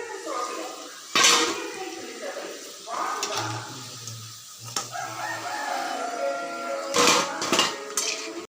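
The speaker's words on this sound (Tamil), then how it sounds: "இதை இனி நம்ம மாற்றி பிளேட்டில் வைப்போம்" Crispy fried surukka snacks being moved onto a plate, with clinks and scrapes of utensils against dishes in a few short bursts, some fairly loud and close, over a faint background.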